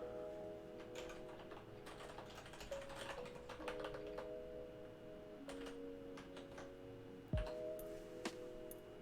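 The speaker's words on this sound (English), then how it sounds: "It's not AI, she's typing." Steady typing on a computer keyboard, bursts of light key clicks over a low tonal hum, with a brief thud late in the clip and no one speaking.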